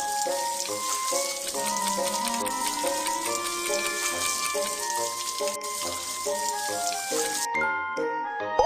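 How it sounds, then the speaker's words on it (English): Running water from a tap pours over a scalded arm in a cartoon first-aid game, a light continuous splash beneath bright, tinkling game music that cuts off near the end. "Rinse with clean water to cool the wound."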